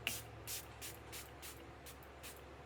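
A series of short hissing spray bursts, about seven evenly spaced pumps, soft and close with low background hum.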